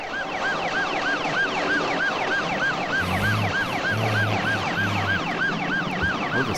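Wailing sirens from the 1979 film Supertrain rise and fall in a fast, continuous cycle, loud and close, with a low two-tone horn blaring in short blasts partway through.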